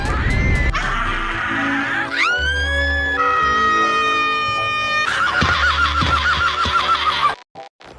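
Comedic horse neighing and whinnying effects, loud and layered, with rising and wavering squeals that overlap for several seconds before cutting off abruptly into short bursts and silence.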